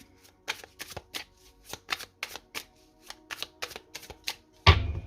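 A deck of Oracle Rhô oracle cards is shuffled by hand. Quick, close, crisp riffling bursts repeat in a brisk uneven rhythm, ending with a louder thump as the deck is set down.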